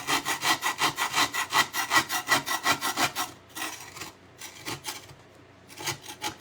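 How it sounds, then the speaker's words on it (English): A metal paint scraper drawn across a cedar plank in a quick, steady run of rasping strokes, close and loud, then slowing into a few irregular, longer scrapes. "It is just a paint scraper. It's metal. So you just scrape."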